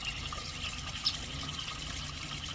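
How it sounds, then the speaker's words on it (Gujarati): Steady rushing water runs continuously, like a stream filling a container, fairly quiet and unbroken with no voices. "ચલો હવે જઈએ પાણી બાટલો ભરી"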